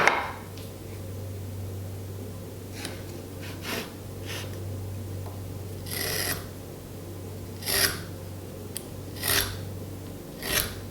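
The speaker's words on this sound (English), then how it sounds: "I'm going to go ahead and mark that across with a marking knife" A marking knife scores a line across wood, a few short scraping strokes close by and faint against a quiet hum, with pauses between them.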